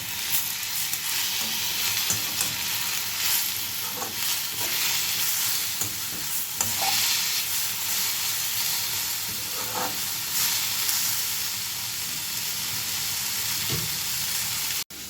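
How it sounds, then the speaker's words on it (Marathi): Masala spices roast in a hot kadhai while a spoon stirs them, giving a continuous sizzle and hiss broken by scraping strokes. It stays steady and close for the whole stretch, with no talk. "ऑलमोस्ट आहे ना मसाला शेकून झाला आहे आपला"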